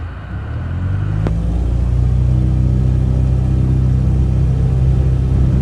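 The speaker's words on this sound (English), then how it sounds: "go ahead and increase power to full throttle." The engine of a Scoop aircraft in Microsoft Flight Simulator 2024 runs up to full throttle with the brakes held, rising quickly into a loud, steady droning roar that continues without speech.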